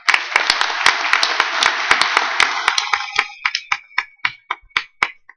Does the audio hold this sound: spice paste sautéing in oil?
no